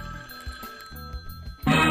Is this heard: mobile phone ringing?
yes